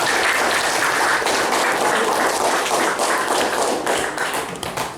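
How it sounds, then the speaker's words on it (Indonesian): Dense, steady applause fills a classroom for a student group during a teaching practice session, loud and continuous before thinning out near the end. "Ini tepuk tangan untuk kelompok 2."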